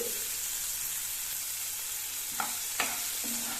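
Bitter gourd slices stir-frying in a pan give a steady close sizzle and hiss, broken by a couple of short scraping stirs near the end.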